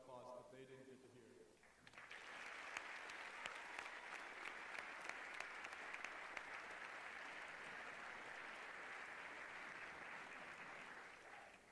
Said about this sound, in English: a round of applause that they didn't get to hear